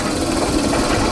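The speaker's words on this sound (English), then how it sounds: "The motor is a 3 horsepower, 440 volt, 3-phase, wound rotor with slip rings" A 3 horsepower, 440 volt, three-phase wound-rotor AC motor with slip rings drives a 28-inch Ohio heavy metal shaper, giving a steady, loud, dense mechanical hum with no pauses.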